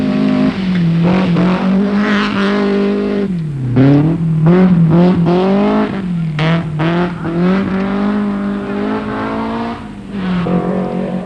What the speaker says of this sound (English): Harry Schallstrom from Sweden was next through, staying just out of the dust raised by his teammate.